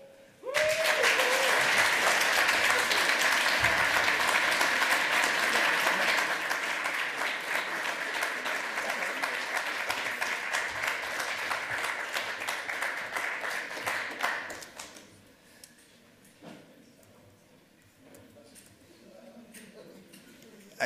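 An audience claps after a lightning talk at the 28c3 conference, a dense, steady wash of many hands going for about fourteen seconds before thinning out into a few scattered claps and quiet room noise.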